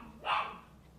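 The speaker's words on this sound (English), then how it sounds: "Sorry about my dogs." A single dog bark indoors, one short muffled bow-wow heard at a moderate distance over a quiet background.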